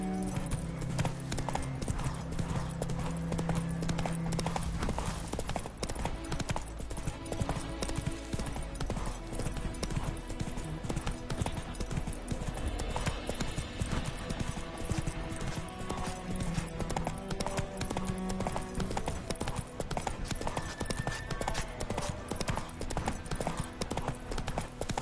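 The horse Roach trotting in The Witcher 3, with steady rhythmic hoof clip-clop throughout, layered under game music and ambience, with an occasional whinny.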